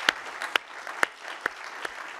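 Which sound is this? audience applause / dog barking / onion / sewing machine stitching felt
audience applause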